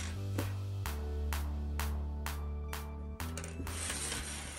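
A sewing machine stitches the side and shoulder seams of a T-shirt bodice, giving a steady mechanical hum with a regular series of clicking needle strokes that briefly change pace near the end.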